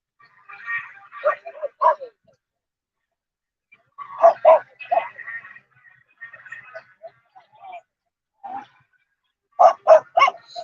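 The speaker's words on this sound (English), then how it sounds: "Oh, somebody's got a dog loose over there." A loose dog barks at an outdoor car show in Newport, Vermont, giving several short bursts of a few barks each, moderately close, with gaps between them and faint voices now and then.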